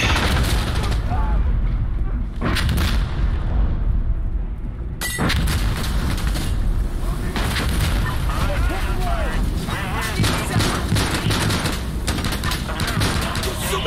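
Artillery explosions from a fire mission in Insurgency Sandstorm rumble loudly and almost nonstop, with sharp blasts near 2.5 and 5 seconds and dense gunfire layered on top.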